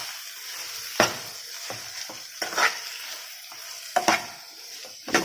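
Chili powder being stirred into tomato masala frying in a pan for drumstick curry: steady soft sizzle with repeated scraping spoon strokes at irregular intervals, close and alone.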